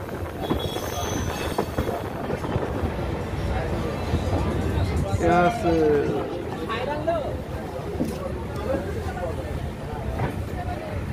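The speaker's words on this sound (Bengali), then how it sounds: "নৈহাটি প্রবেশ করলো বন্ধুরা সাইরাং এক্সপ্রেস" The Sairang Express rolls into Naihati station with a continuous rumble of wheels and a brief metallic squeal, under a steady babble of passengers talking on the platform.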